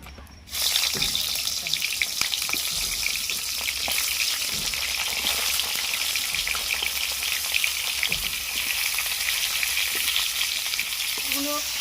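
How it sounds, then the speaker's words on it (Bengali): Pointed gourd (potol) frying in hot oil in a kadai, stirred gently as it browns; a loud, continuous sizzle with occasional clinks and scrapes of stirring, close up, with no speech over it. "পটলটাকে একটু লাল লাল করে ভেজে নিতে হবে"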